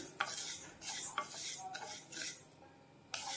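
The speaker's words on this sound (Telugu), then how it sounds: "ముందుగా 1 కప్పు పెసరపప్పు తీసుకొని ఫ్రై చేసుకోవాలండి." Moong dal is stirred in a pan over a medium flame, the spoon scraping and clinking against the metal in repeated close strokes, with a brief pause near the end before the stirring resumes.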